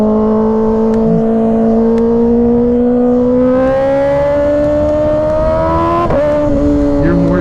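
A 2024 Kawasaki Ninja ZX-6R 636 holds a steady, loud engine drone from the rider's seat as its pitch climbs gradually, then blips sharply on a quick downshift near the end.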